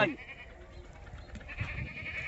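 A goat bleats once, close and brief, on a goat farm, followed by a low murmur of farm background with no clear talk.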